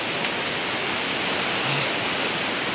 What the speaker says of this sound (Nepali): तल खोला बगिरहेको छ